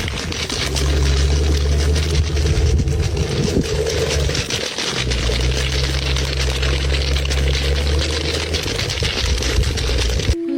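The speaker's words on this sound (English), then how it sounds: "It's like a water faucet." Water gushing out of a tree like an open faucet, a loud steady rushing pour running almost unbroken, with a low droning hum beneath it and a short dip midway.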